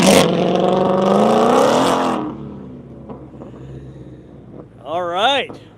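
2020 Ford Mustang GT500 on Michelin Pilot Sport 4S tires heading out on a wet skid pad, a loud V8 revving and pulling away before fading, followed by a quieter lull and another rising, wavering engine note with people talking nearby.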